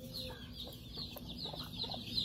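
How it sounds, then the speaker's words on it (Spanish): A small rooster, father of a brood of chicks, clucks softly in a steady series of short calls, close and quiet, alongside faint high peeping. "El papá de esos pollitos, ese gallinito, vea."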